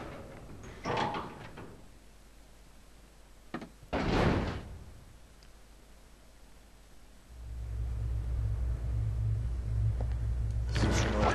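A door opens in the survival horror game Resident Evil Zero, with several sharp thuds and clunks spread across the stretch, then a low steady rumble that rises and holds toward the end.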